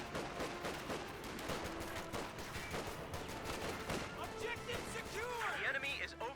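Rapid bursts of rifle and machine-gun fire from a Company of Heroes 2 World War II battle between OKW and US forces, crackling steadily and densely throughout with a voice talking over the combat.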